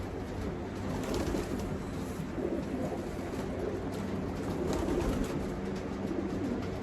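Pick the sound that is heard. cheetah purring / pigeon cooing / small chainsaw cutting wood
pigeon cooing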